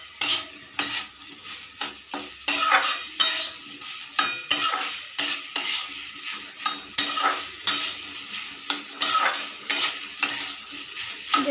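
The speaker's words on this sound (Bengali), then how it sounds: "এই যে এরকম করে ভালো করে ভাজতে হবে।" Vegetables fry in a pan with a steady sizzle while a utensil stirs and scrapes in regular, repeated strokes, close and moderately loud, with no talk.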